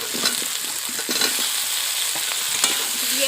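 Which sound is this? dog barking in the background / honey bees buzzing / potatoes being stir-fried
potatoes being stir-fried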